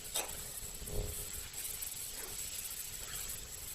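Washed minced meat (keema) sizzles and hisses in a hot pan with spices, a soft continuous frying hiss, fairly quiet and close.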